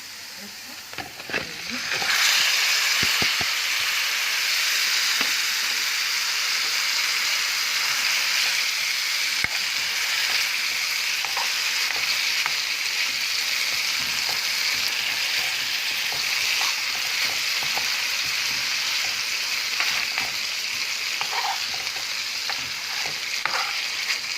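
Garlic sizzling and frying in a hot pan for sausage pizza, a steady bright crackle that carries close and continuous, with occasional stirring scrapes underneath.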